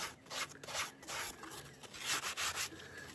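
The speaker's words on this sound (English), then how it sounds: "now we're just sanding everything down to the line" Hand sanding of a wooden knife kit handle, shaping it down to the outline, with steady rasping rubs in an uneven back-and-forth rhythm, close up and fairly quiet.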